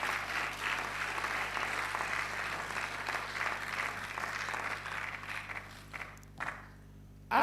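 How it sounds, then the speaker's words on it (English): Conference audience at the Africa Conference 2025 applauding, a steady dense wash of many hands clapping at moderate level for about six seconds before tapering off, with a low hum underneath. "Yes, it's okay to clap."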